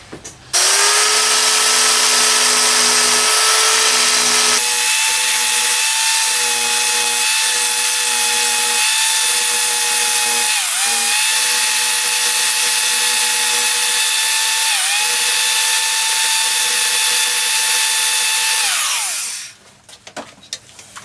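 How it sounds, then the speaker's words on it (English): A power tool sands down a glued-in wood piece on a 1980s Aria 12-string acoustic guitar. It gives a loud, steady high-pitched whine with a grinding rasp, runs nearly twenty seconds with small dips in pitch under load, then winds down and stops. "I'm just going to sand that down."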